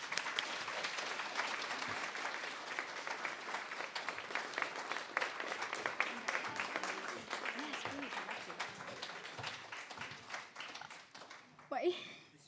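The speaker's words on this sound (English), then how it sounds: "So please give a huge round of applause for Louise Lyles" Sustained audience applause for a young award winner at a youth awards ceremony, dense steady clapping that tapers off toward the end, followed by a voice beginning to speak.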